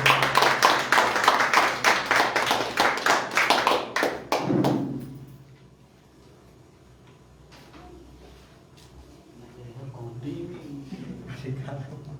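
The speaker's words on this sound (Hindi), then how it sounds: "आइए जोरदार ताली से इनका स्वागत करें" Church audience claps to welcome a preacher, a loud burst of many hands for about five seconds that cuts off sharply, followed by quieter room noise and a few scattered sounds.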